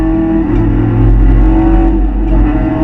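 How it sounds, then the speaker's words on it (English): A Toyota 86 race car engine drops a gear on track into fourth. It sounds like a loud, steady droning in-car roar with strong low harmonics and a slight pitch shift, with no talk. "We change down gears. We're back into 4th gear."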